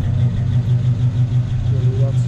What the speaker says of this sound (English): Vehicle starts right up. Sounds good, runs very well.